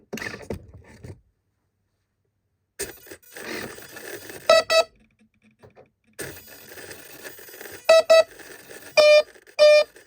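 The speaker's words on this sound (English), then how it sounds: "as soon as it makes a beep, throttle it down" Several short electronic beeps in quick pairs and bursts, sharp and tonal, from a model aircraft's electronic speed controller during throttle calibration, over a rough whirring motor noise that starts and stops.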